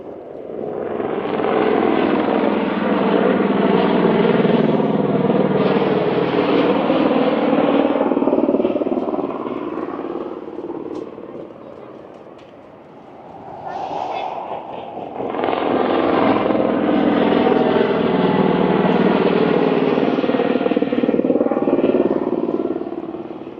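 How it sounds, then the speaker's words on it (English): Loud, sustained engine drone of tour helicopters passing overhead along the Las Vegas Strip, swelling, dipping briefly, then roaring back again for a second pass. "Get a lot of the tour helicopters."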